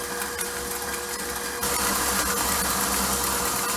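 Electric mixer whirring steadily as eggless tiramisu cream is whipped, a dense continuous motor drone close up that steps slightly louder partway through.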